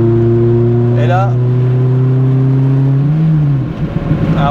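A Renault 5 Turbo 2 engine pulling steadily in fourth gear with a rising drone under acceleration, loud and close, with a brief shift in pitch near the end.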